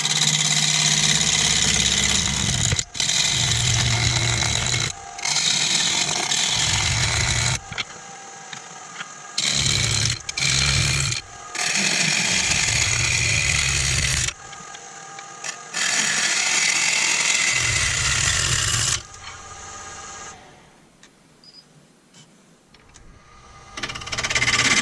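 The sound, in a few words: wood lathe turning elm bowl with 5/8 bowl gouge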